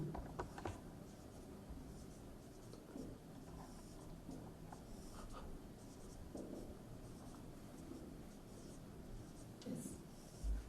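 Pen scratching on paper while a matrix is written out by hand, a soft, steady scribbling rub close up with brief pauses between strokes and no talking.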